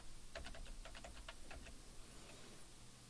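Quick run of light computer keyboard keystrokes, about a dozen soft clicks in a burst over a second or so, then a couple of faint taps, heard faintly and close against a quiet background hum.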